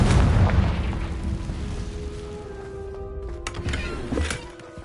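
A Confringo fire spell from the Hogwarts Legacy video game bursts in a loud, booming blast at the start, then rolls off into a long rumbling tail with smaller crackles and a brief magical shimmer near the end.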